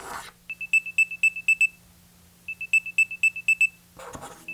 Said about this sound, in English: On both buds, we'll find features like Find My Earbuds, which play a loud beeping sound if you're within connection distance.